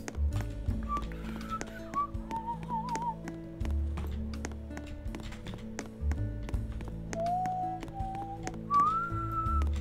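Someone whistles a short melody in bursts, fairly close, over a quiet background of low thumps and taps, with no talking.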